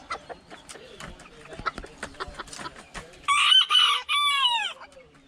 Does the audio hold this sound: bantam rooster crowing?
yes